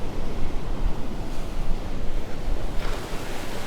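Storm-driven waves splash up over a beach seawall at Vanderbilt Beach as a hurricane approaches, a steady loud rush of surf and wind noise with a bigger splash surging near the end.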